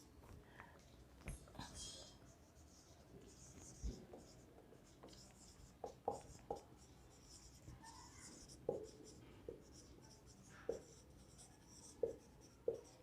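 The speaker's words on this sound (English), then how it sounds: "I'll be writing it on the board." Marker or chalk writing on a classroom board during a geometry lesson, heard as soft intermittent scratchy strokes in short bursts, with faint background noise and occasional quiet voice sounds.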